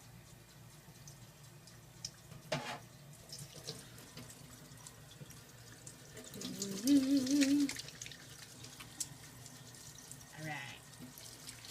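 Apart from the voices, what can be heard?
washing hands under a running tap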